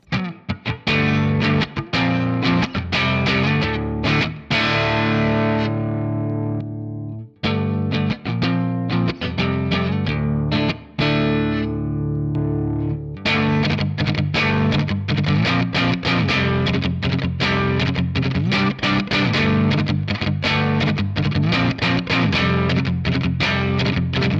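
Electric guitar through a Holy Island Audio Spectral Fire overdrive pedal, all knobs at noon, giving a mild crunch, strummed chords and picked notes ringing out, loud and continuous with a brief pause near the start.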